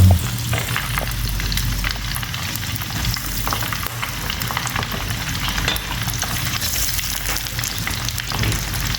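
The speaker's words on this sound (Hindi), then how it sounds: "सारा गोश्त हमने फ्राई कर लिया मक्खन के अंदर" Boiled mutton pieces frying in melted butter, a dense, continuous sizzle and spatter, close and loud throughout, with faint stirring.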